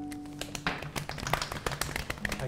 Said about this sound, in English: Everyone quietly applauds.